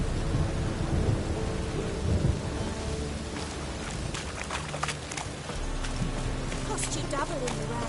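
Rain falls steadily with rumbling thunder inside a PS4 game, a dense continuous wash of downpour under a roll of thunder, with a voice speaking over it.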